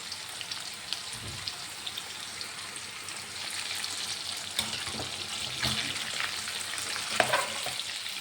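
Chicken fries in a pan with a steady, dense crackling sizzle that holds throughout, punctuated by occasional louder pops and spatters toward the end; no voices.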